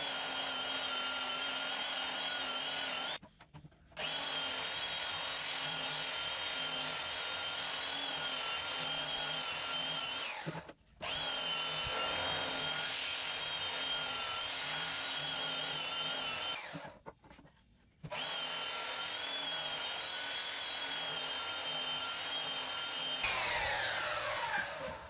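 A power sander works over planed wooden boards for a baby's bed, giving a steady, loud whirring drone close by. It stops briefly three times and then starts up again.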